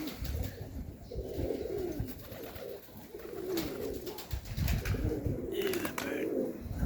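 Serbian highflyer pigeons coo in repeated soft, throaty phrases close to the microphone, with faint rustling and flutters in between.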